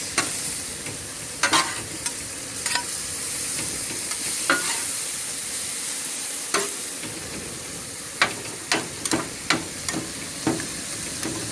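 Cheesesteak meat and cheese mixed on a hot griddle, a steady close sizzle broken by sharp, repeated metal spatula clanks and scrapes that come in quick bursts near the end.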